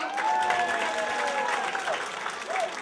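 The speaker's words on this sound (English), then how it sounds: "If you're happy, clap it up." A comedy club audience at NJ PAC claps steadily for nearly three seconds, a dense, even patter of many hands with a few shouts and cheers mixed in.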